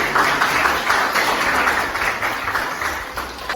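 Applause from a university class during a teaching session, a steady, fairly loud wash of clapping that continues evenly for the whole stretch with no voices standing out.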